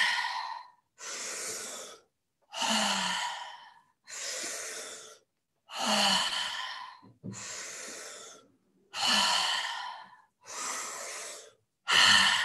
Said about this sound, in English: We're going to breathe through our mouth.